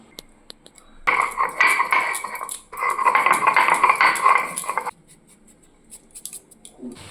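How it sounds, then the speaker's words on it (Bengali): Two cardamom pods crushed on a stone grinding slab make bursts of loud, close scraping and clinking grind in two main runs, then tapering to sparse light taps. "শিলে এলাচ দুটো একটু গুঁড়ো করে নিচ্ছি"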